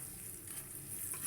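Cardamom, cinnamon and bay leaf frying with onions in hot oil for a chicken curry, a steady close sizzle with faint stirring throughout and no voices.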